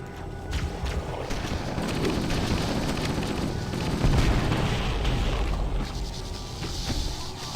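A chain of grenade explosions in Halo: Combat Evolved, loud booming blasts rolling into one another over several seconds as a dense, rumbling barrage with no pause between detonations.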